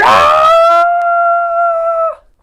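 Tiger roar sound effect in an audiobook: a single loud, drawn-out tonal cry lasting about two seconds that holds a steady pitch, then cuts off abruptly into silence.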